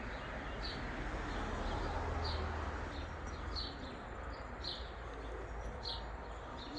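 Domestic pigeons coo softly in a loft beneath a steady outdoor rumble, with faint chirps and brief higher calls scattered across the background and no speech.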